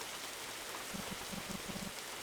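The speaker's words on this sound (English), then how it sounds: "it's really pouring out there" Heavy rain pours steadily in a Roblox video game, a dense, constant hiss with scattered low drips and patters landing near, with no voices.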